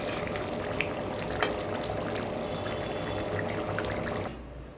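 Cooked potato and cauliflower curry is poured from a pan, a wet, trickling slosh with a couple of clinks against the vessel, close and moderate in volume before fading out.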